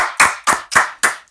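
Four loud, close hand claps in an even rhythm, sharp and separate rather than a full crowd's applause, greeting Dr. Sugeng at a talk show recording.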